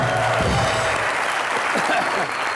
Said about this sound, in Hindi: फवाद और सोनम के लिए जोरदार तालियां।